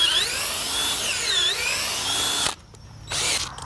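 A high-pitched power drill whines steadily with slight pitch dips as it bores into a tree's root flare, then stops abruptly, followed by a brief quiet pause before another short burst.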